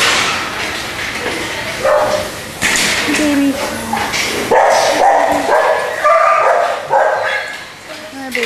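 Shelter puppies bark and yip in short, excited bursts, some whimpering in between, close by and loud, while a person talks softly to them.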